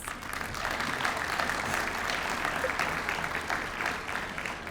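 Steady applause from an audience at a chamber of commerce awards banquet, an even wash of many hands clapping throughout, moderately distant and without pauses.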